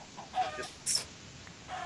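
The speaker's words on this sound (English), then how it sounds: "Get eggs from the chickens" Faint video game chickens cluck in a few short bursts, with one sharp higher squawk, against quiet background hiss.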